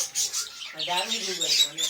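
Birds in an aviary that holds diamond doves give soft, high chirps and calls nearby, with a person talking over them for most of the moment.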